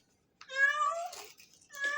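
A cat meows in a garden, two drawn-out calls close to the microphone with a short pause between them and no talk.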